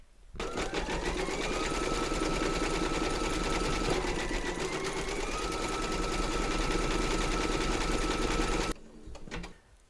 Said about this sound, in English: Load your thread colour for the star into your machine and then stitch round number 4